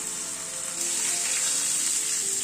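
Mixed vegetables frying with salt and turmeric in a pan, a steady soft sizzle with faint crackle holding evenly throughout, no voices.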